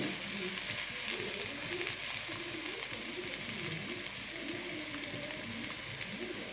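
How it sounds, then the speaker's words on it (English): Onions sauté in a pan for a spicy Chinese-style noodle dish, giving a steady, close, broadband sizzle with faint scraping of a spatula throughout. "Saute until the onion become caramelized."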